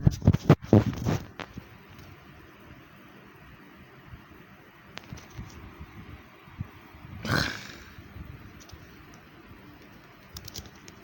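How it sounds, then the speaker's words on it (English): An electric fan running in a room gives a steady, soft whooshing hiss, with scattered taps and clicks and a louder rustling burst partway through. "It's also because I have my fan on."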